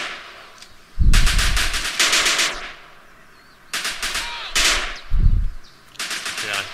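Automatic gunfire in GTA San Andreas comes in several loud, rapid bursts separated by short quiet gaps, with heavier thumps under two of the volleys.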